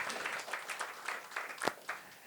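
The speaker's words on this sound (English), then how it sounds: "So let's give Nalini a round of applause." A panel-discussion audience gives a short round of applause for a panelist being introduced, a thin scattering of claps that is fairly faint and distant, with a sharper clap standing out near the end.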